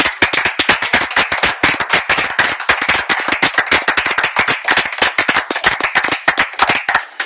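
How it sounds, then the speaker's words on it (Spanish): A church congregation claps loudly and close by in praise of Jesus Christ, a fast, steady run of sharp, crisp hand claps that carries on without a break. "Un aplauso a Jesucristo aquí"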